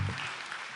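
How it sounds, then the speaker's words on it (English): Brief burst of audience applause for three panelists at a Hong Kong financial leaders' conference, fairly quiet and fading over less than a second. "let's put our hands together and give this 3 panelists a round of applause"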